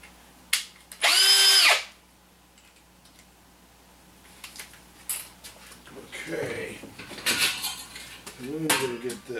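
Power drill fitted with a Phillips bit driving a pan head screw while building a box fan filter, one loud whirring burst close by, followed by clinks as screws are handled and a few shorter, softer spins of the drill.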